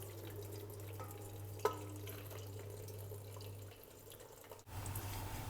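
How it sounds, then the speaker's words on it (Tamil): Water from cooked red beans pours off through a strainer, giving a steady, fairly quiet running and trickling wash that lasts several seconds with a brief splash partway through. "தண்ணியை வந்து இதில் வடிகட்டிடுவோம்"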